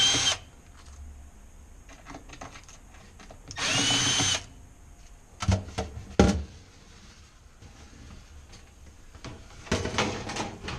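Power drill backing screws out of a Fhiaba Fresco refrigerator ceiling, short close whirring bursts separated by quiet pauses, clicks and handling knocks, with one longer run near the middle.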